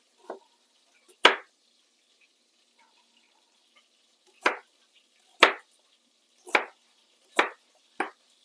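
Knife chopping vegetables on a cutting board for hamburger soup: six sharp, separate chops spaced irregularly with pauses between, close and fairly loud, no talking.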